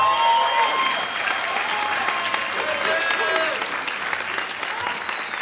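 At a graduation ceremony, an audience claps steadily with sustained, dense applause and a few scattered cheers, filling the room before easing slightly toward the end.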